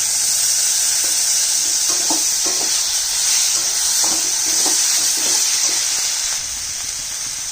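Banana stem sizzles and hisses steadily in a pan after a little water is added, a loud bright steam hiss with faint stirring scrapes underneath.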